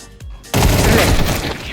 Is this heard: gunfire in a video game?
yes